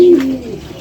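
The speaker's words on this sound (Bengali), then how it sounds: "এই জায়গায় সব নর, আমাদের সব নর কবুতর" A male pigeon coos close by in a breeding loft holding only single males, one low throaty call that trails off and fades out.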